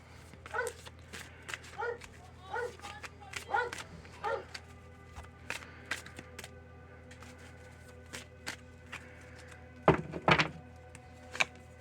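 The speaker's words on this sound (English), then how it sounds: "Excuse my doggo. Him's just barking at stuffs." A dog gives a series of short, sharp barks at irregular intervals, fairly close, with a couple of louder thumps near the end.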